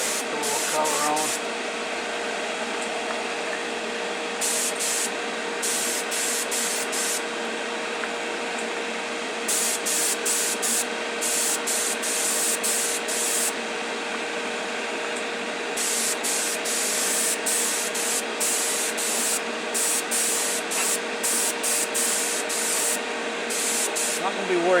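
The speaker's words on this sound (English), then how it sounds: "Shoot some inside first, just to put a little color on." Airbrush hiss of enamel paint being sprayed inside the body of a 65 Impala, a steady close spray broken into repeated bursts as the trigger is pulsed, with someone talking over it.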